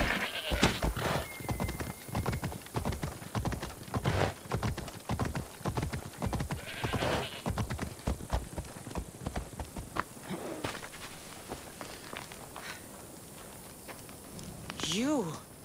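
Hooves of a galloping horse in the video game Assassin's Creed Odyssey thud in a fast, loud, steady rhythm, then thin out toward the end while game voices talk over them.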